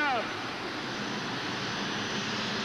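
A turbine aircraft engine, the kind used in Vietnam-era Huey helicopters, fitted to a tractor-pull vehicle at a 1988 Charlotte pull: a loud, steady roaring whine held throughout, close and dominant, with a brief rising tone at the start.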